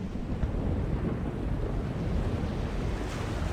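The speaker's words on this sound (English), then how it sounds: "it's a chaos storm" Chaos storm in The Longest Journey video game: a loud, steady roar of wind and crashing sea waves, continuous and close with no breaks and no voices.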